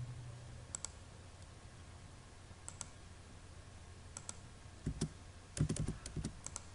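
Keys on a computer keyboard clicking at an AutoCAD drafting session as L and Enter are typed: scattered sharp taps at first, then a quicker close cluster of clicks near the end, faint and alone.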